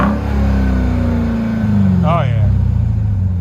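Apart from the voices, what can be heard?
Dodge Durango Hellcat engine revving, mid muffler delete, Dynomax Race Bullet exhaust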